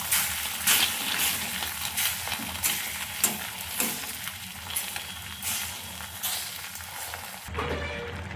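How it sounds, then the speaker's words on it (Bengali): Curry cooks in a pot at home with a continuous close hiss and sizzle, rising in pulsing surges with occasional soft knocks, then dropping away abruptly near the end; no one speaks. "আর এই তরকারি ফোটার আওয়াজটা কি ভালো লাগে না"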